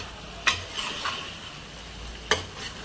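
Chicken curry with ginger-garlic-onion paste and green chillies simmering in a pan, a soft steady sizzle with two distinct spoon knocks against the pan, close and fairly quiet.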